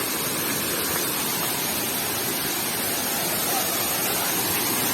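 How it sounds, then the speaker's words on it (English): Ngaloi waterfall roars as a steady, dense wash of falling water, loud and continuous throughout with no pauses or voices over it. "this is the main view of ngaloi waterfall, huh?"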